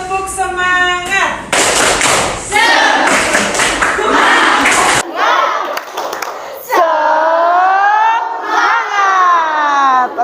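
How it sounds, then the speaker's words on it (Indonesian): Schoolchildren in a classroom shout the 'tepuk semangat' chant, a loud group call with bursts of rhythmic clapping between chanted words, close and energetic, led by a teacher's voice. "Bu Guru cek semangatnya. Tepuk semangat."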